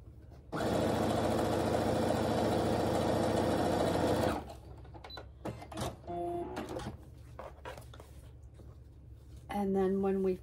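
Sewing machine stitching quilt block seams together, one loud continuous run of about four seconds, followed by quiet handling clicks, light rustling and brief tonal sounds.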